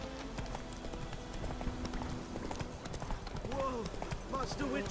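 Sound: horse galloping hooves in Witcher 3 video game

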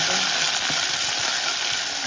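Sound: ginger and green chillies frying in a pan

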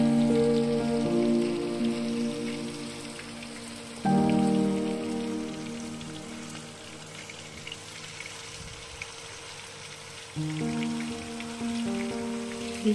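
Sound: paneer sizzling while frying in a non-stick pan

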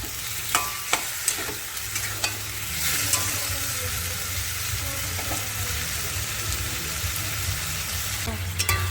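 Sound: sautéing potatoes with spice paste in oil

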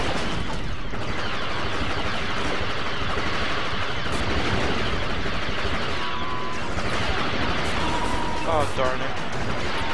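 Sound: grenade explosions and gunfire in Star Wars Battlefront video game

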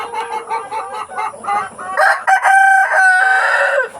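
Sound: Rhode Island Red chickens clucking and rooster crowing

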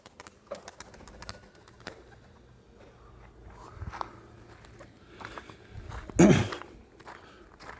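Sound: pigeons being flown, tumbler pigeons

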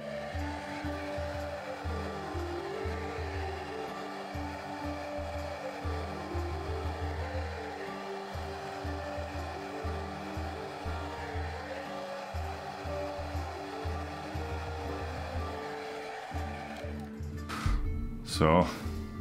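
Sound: hair dryer blow-drying a beard

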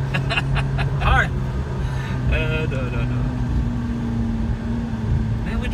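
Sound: McLaren MP4-12C car driving fast

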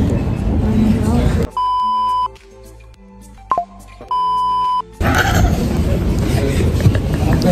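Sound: censor beep sound effect

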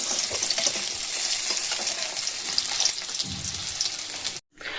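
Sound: hilsa fish pieces frying in oil

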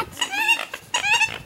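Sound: ducks squabbling

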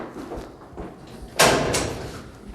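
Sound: door being opened

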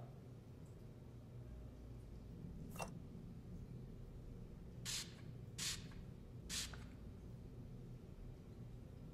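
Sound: spraying luminol on a wall

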